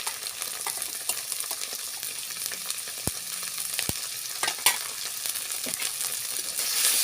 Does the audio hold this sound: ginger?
yes